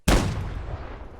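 A single heavy cannon blast in the Holdfast multiplayer naval battle game, a sudden loud boom with a long rumbling decay.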